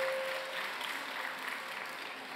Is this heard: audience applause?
yes